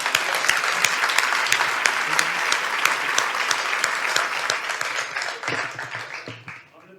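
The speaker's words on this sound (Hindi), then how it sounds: "एक बार तो अपने लिए ही ताली बजा दो" Loud, dense applause from an audience at a Hindi kavi sammelan poetry gathering, steady clapping for about five seconds before thinning out and fading near the end.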